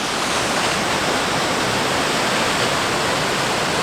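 Large waterfall on Vancouver Island heard from a bridge above, a steady, loud broadband roar of falling water that stays constant throughout with no voices over it.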